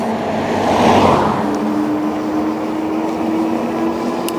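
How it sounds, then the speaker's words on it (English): A car sweeps past close by on a rural road, swelling and fading within a second or two, leaving a steady hum of passing traffic and wind outdoors. "Cars."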